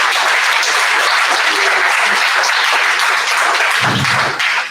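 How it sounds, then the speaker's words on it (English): A meetup audience at a Python user group gives a speaker a round of applause: steady, close clapping from a modest crowd that holds evenly for a few seconds, then begins to fade. "Let's give our speaker a round of applause."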